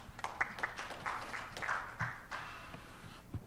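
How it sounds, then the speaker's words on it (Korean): A Korean academic conference audience gives welcoming applause for a presenter. Scattered, fairly faint hand claps come from across a meeting room, loosely rhythmic and thinning out toward the end. "박수로 환영하겠습니다."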